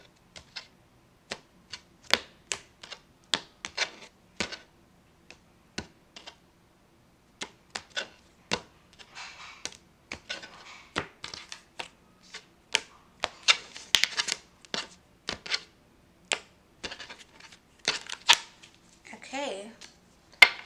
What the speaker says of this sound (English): I'll split the deck and we'll just draw some cards from the top